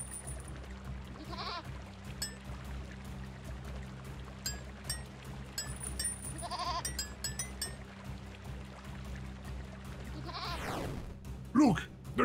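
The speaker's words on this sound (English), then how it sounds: "A goat!" A goat bleats several times in an Android video game, short nasal cries spread over a steady ambient game background, with a spoken voice and a rising whoosh near the end.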